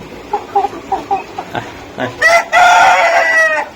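Tiger breed chickens cluck in short, separate bursts, then a rooster lets out a loud, close crow that stretches over the final second and a half.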